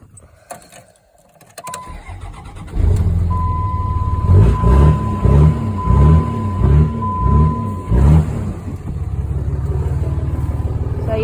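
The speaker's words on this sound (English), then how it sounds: "It's got the 24 valve Cummins diesel in it." A 24 valve Cummins diesel in a six-speed manual truck with a straight pipe cranks over with a starter whine, fires up and settles into a loud, throaty idle with rhythmic revving pulses, close by and without talk.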